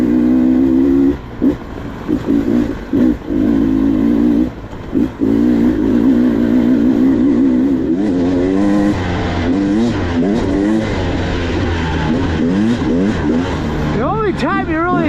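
Carbureted engine of a Beta 300RR Race Edition dirt bike revving up and down in loud, uneven bursts with rising and falling pitch, while a voice talks over it for much of the clip.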